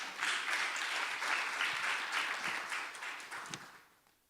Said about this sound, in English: the one who made this session deserve to get this big rounds of applause